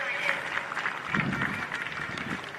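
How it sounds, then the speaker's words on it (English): A crowd applauds the runners-up, Gungahlin United, at the 2020 NPL1 Men's First Grade football final in Canberra: faint, distant, steady clapping with voices mixed in. "Big round of applause for our runners-up, Gungahlin United."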